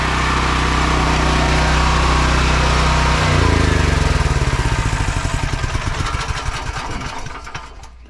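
Small portable generator engine running loud and close with a steady buzzing drone, then sputtering and slowing into a pulsing wind-down before stopping near the end.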